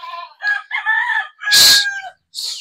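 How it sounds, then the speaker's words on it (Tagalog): A chicken in poor condition, kept in a new farm area after a typhoon, gives loud close clucks and a short crow in several bursts, with a brief hiss-like squawk near the end. "may isa lang po tayong manok dito na medyo hindi maganda yung kalagayan"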